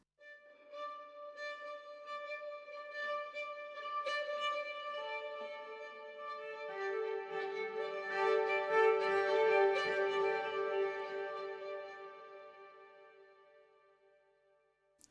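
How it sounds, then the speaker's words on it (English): Virtual orchestra strings play a scattered tremolo, each player bowing loosely out of sync, building into a dense shimmering swell that thickens midway and then fades out, heard alone. "so here we have the scattered tremolo"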